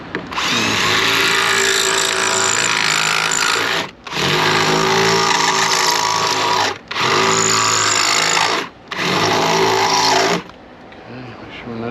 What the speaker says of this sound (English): I'll start first with a 3/8 bit, so I'm not increasing the hole diameter.